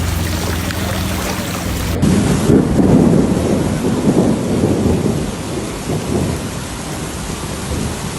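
Thunder rumbles over steady heavy rain during storms in Tuscany, Italy, the downpour beginning abruptly and a deep roll of thunder building and fading over several seconds, loud and close with no voices.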